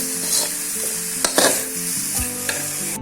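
Nasi goreng sizzles loudly in a pan as soy sauce goes in, with a continuous close hiss broken by a few sharp stirring scrapes and clicks.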